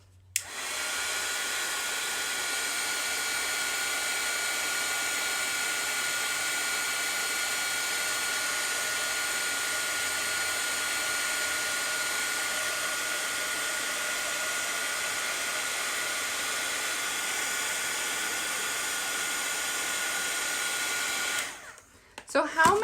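Embossing heat tool blowing steadily for about twenty seconds to melt and set embossing powder on a star design, a continuous loud airy whir that cuts off near the end.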